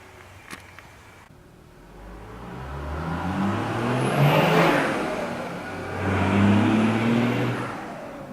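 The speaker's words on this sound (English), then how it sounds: "I was just waiting for that car to go past." A car drives past on a nearby road, its engine rising gradually from quiet to a peak, easing off, then swelling again as it passes close by, with no talk over it.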